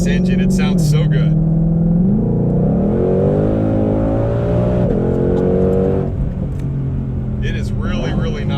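A supercharged Ford Shelby GT500 engine revs loudly up and down in steady, sustained pulls, close by, with a few brief voices at the start and end.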